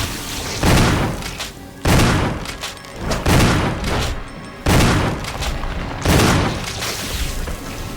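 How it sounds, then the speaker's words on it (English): Shotgun blasts fired repeatedly in Resident Evil HD Remastered, five or six loud booming shots spaced roughly a second or more apart, each with a heavy thump and a short decaying tail, with no talking. "we're just going to let rip of the shotgun"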